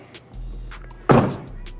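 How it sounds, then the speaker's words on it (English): A Lexus car door swings shut in one firm, close thunk, with faint chiming and cabin hum around it. "The sound of closing the door."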